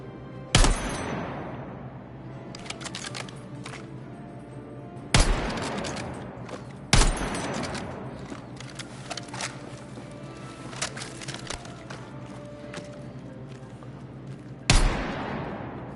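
Rifle gunfire in the Battlefield 6 beta, with several loud sharp reports at irregular intervals over a continuous rattle of smaller shots and battle noise.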